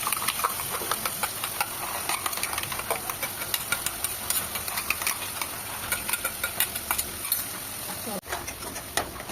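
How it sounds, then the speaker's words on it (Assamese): A paste of onion, ginger and garlic masala fries in oil with a constant close hiss and crackle, dense bursts of spattering, and a brief clatter near the end. "এই মছলাটো যেতিয়ালৈ ইয়াৰ পৰা তেল নাহে তেতিয়ালৈ ইয়াক ভাজি দিব লাগিব"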